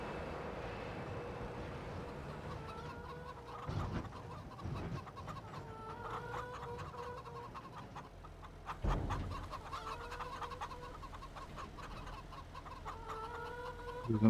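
Chickens in the Farming Simulator 25 video game cluck and squawk steadily at a farm, several birds layered with occasional louder bursts and thumps, fairly faint with no talk.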